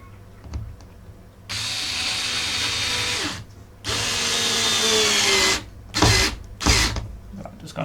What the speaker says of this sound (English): The only problem with this screwdriver is that it eats these nails.